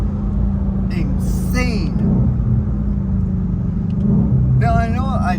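A 2020 Ford Mustang Shelby GT500 Carbon Track Pack, a 700-plus horsepower car, rumbles loudly and steadily at speed from inside the cabin, while people talk briefly over the engine.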